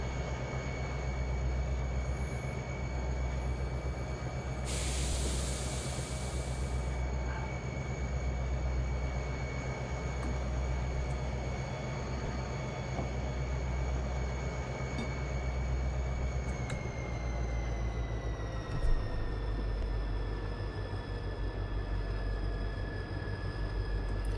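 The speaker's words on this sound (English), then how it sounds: "This is one of the best sounding locomotives in the game, hands down." Steady in-cab drone of a Southern Pacific diesel locomotive in Train Simulator 2020 on Donner Pass, a continuous low engine rumble with high tonal whine that shifts pitch partway through, no talk.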